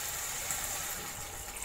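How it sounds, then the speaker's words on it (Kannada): Water poured steadily into a pan of fried drumstick sambar base, a continuous soft rushing gush lasting the whole moment at close range, with no voices. "ಸ್ವಲ್ಪ ನೀರು ಹಾಕ್ತಾಯಿದ್ದೀನಿ, ಒಂದು 2 ಲೋಟ ನೀರು ಹಾಕ್ತಾಯಿದ್ದೀನಿ."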